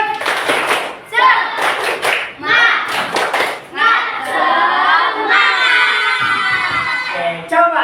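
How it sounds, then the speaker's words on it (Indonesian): A class of schoolchildren performs a rhythmic spirit clap, bursts of sharp unison clapping and chanting voices in several quick groups, loud and close, with a teacher's voice and children's voices around it. "Tepuk semangat!"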